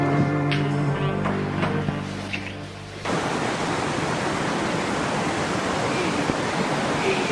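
Steady broadband rush of a waterfall, loud and continuous, starting abruptly partway through after a quieter stretch with faint music-like tones.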